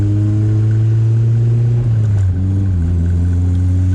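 A 1994 Honda Civic coupe with a K20Z1 engine and a loud exhaust drones steadily up close, its deep engine tone dipping briefly as the driver eases off before settling back into a constant cruise.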